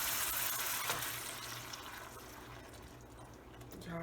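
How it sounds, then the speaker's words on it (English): Saffron water poured into a cooking pot, a steady broadband liquid rush filling the kitchen for about four seconds, with a brief clatter near the end. "Adding in our saffron water."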